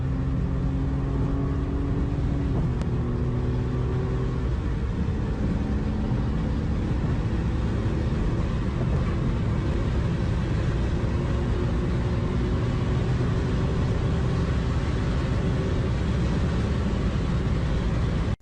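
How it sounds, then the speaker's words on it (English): A BMW driven fast and recklessly on a straight road: a steady, loud engine rumble with road noise running throughout, a falling tonal pitch early on as the car speeds along, no voices. "All he does is drive his mom's BMW fast and recklessly."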